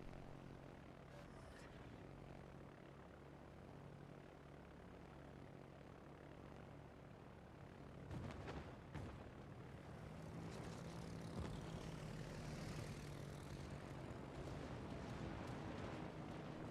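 A fighter aircraft launches in the World of Warships video game with a low propeller-engine drone under game ambience, swelling with a louder whoosh partway through.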